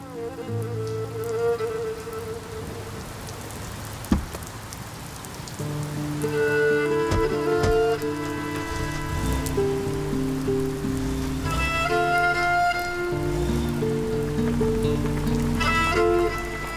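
Steady heavy rain hisses throughout, with a sharp knock near the start and layered music playing over the downpour.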